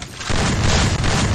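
A shotgun fires in a video game: after a short quieter lead-in comes a loud, heavy boom that rumbles on as one dense burst.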